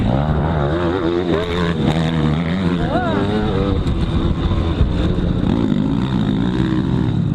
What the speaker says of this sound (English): this bike sounds like a moped or something